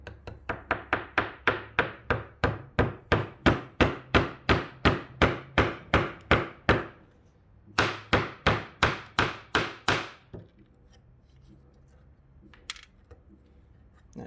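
A hammer drives a chisel into a groove in wood, close and loud, with about two dozen sharp evenly spaced blows in two runs separated by a short pause, then near quiet.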